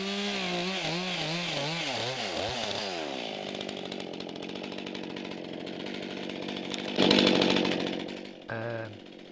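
Chainsaw cutting into a log along a scribed line during Norwegian log house repair, a loud steady whine that dips and rises in pitch as the engine works through the wood, briefly easing off near the end.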